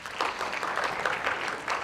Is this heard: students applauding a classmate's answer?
yes